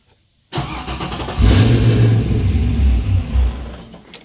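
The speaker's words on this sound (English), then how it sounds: "you'll hear the fuel pump and everything come on this time" A 1969 Pontiac GTO cranks and fires after a brief quiet moment, with the fuel pump coming on: a loud mechanical churning and rumbling engine that surges unevenly for a few seconds, then fades.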